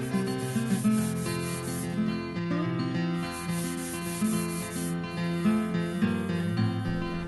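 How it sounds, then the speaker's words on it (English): A shellac-sealed tropical walnut board is hand-sanded with steady, rhythmic scratchy strokes, close and fairly quiet, with no talking. "You let that dry for 10 or 15 minutes and then sand it down a little bit."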